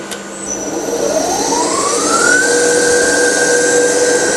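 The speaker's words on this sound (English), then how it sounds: "So I'm going to fire the test bench up now" An alternator test bench spinning up, a whining tone that climbs in pitch for about a second and a half and then holds steady over a constant mechanical drone, loud and close.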